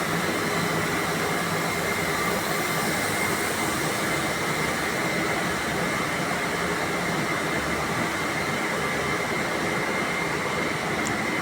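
Steady, loud broadband machinery drone from a central drum machine running inside a plastic factory, a continuous industrial hum with no breaks and no talking.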